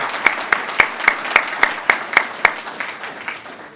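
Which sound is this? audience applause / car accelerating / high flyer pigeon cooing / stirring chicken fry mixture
audience applause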